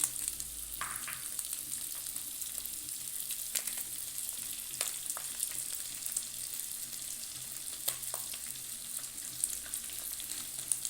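Pre-cooked mutton frying in a pan toward a light gravy, a steady close sizzle with occasional sharp clicks of stirring and no talking.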